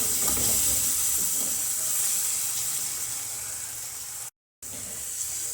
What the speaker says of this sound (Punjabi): ਹੁਣ ਆਪਾਂ ਤੜਕੇ ਨੂੰ ਚੰਗੀ ਤਰ੍ਹਾਂ ਭੁੰਨ ਲਵਾਂਗੇ